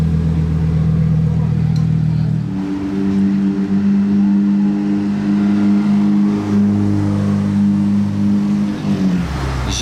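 A blue Porsche GT2 RS drives past at night on a Monaco street, its engine note a sustained, loud, steady drone that swells and holds across several seconds before fading.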